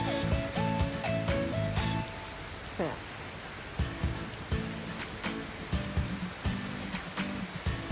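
Heavy rain patters continuously, joined by a few tonal notes early on and scattered sharp knocks.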